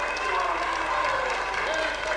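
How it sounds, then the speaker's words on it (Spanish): Studio audience applause on an Argentine television show, a dense steady wash of clapping lasting a couple of seconds, with talk mixed in. "Qué lindo aplauso."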